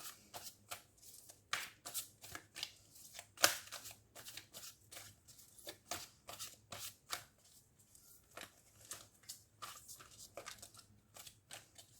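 Tarot cards are shuffled by hand in a run of quick riffling flicks and soft taps, close and fairly quiet, continuing in irregular bursts with no voices.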